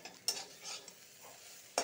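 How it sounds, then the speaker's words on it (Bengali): Stem amaranth greens with garlic are stir-fried in a pan, with a faint sizzle broken by two sharp spatula clinks and soft scraping strokes. "শাকটা ভাজা ভাজা হয়ে গেছে, দেখো।"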